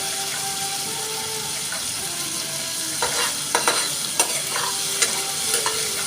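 Spices frying and being stirred over a low gas flame for a bottle gourd curry, a soft steady sizzle with a few scraping stir strokes in the pan, without any talk.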